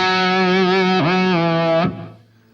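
An electric guitar plays through a Roland Boss GT-8 multi-effects unit with reverb, holding a bright, distorted chord that dips in pitch midway, then cuts off and leaves a short reverb tail.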